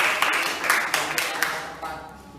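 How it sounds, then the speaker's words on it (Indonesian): Classroom applause for a student group after a physics presentation on hydrostatic pressure, a short burst of scattered clapping from a small group that fades quickly, with people talking alongside it. "Kita beri aplaus untuk kelompok 2"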